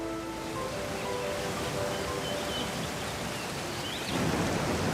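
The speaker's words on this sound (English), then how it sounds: "the silence is broken by the sound of falling water." Hindhope Linn, a waterfall in a quiet forest dell, gives a faint steady rush of falling water, a soft continuous hiss with some brief tonal sounds early on and a slightly louder splash near the end.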